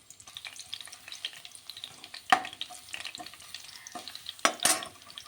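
Cumin, mustard seeds and crushed garlic sizzling in hot oil for a rural-style spring onion curry, soft crackles and popping with a couple of loud scraping stirs against the pan, close up.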